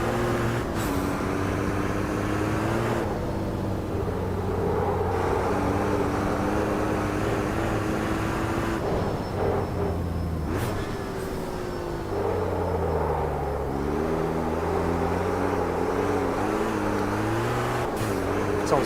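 A race car engine at full throttle in the sim racing game Automobilista 2 on the Nordschleife: a loud, continuous droning roar that climbs in pitch, drops at gear changes and climbs again, with no talking.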